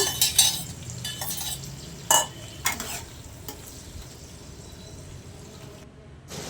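Goat kidney and liver pieces frying in hot oil, sizzling steadily while a utensil scrapes and clinks against the pan in several bursts early on, close, then settling into a softer fry.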